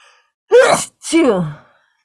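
A single close sneeze, a sharp breathy burst followed by a shorter second gasp-like release.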